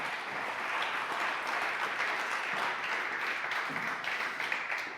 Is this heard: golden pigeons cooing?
no